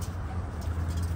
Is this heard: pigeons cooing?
yes